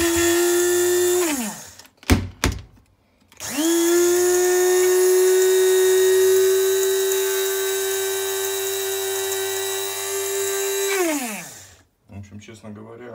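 A Galaxy Line GL0907 electric coffee grinder grinds coffee beans, with a high, steady motor whine that spins up, holds for about eight seconds and winds down. A couple of short bursts come before it and one follows.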